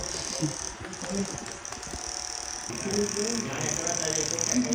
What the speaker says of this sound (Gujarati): અને આ પંખો જો બેટરી વાળો